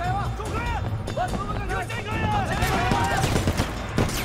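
Enemy gunfire in a Sleeping Dogs shootout at a wedding, rapid bursts of shots cracking under busy game noise and shouting voices throughout.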